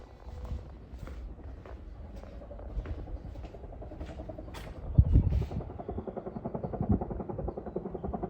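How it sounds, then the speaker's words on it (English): A steady low rotor thrum of a helicopter in the distance over a government fire base, continuous and moderately loud, with a brief thump partway through. "That's a helicopter over at the government fire base."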